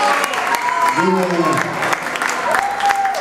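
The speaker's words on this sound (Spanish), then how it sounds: "quiero que le dé un aplauso" Audience at a festival poetry event claps steadily, with a voice and whistling or sung tones rising over the applause.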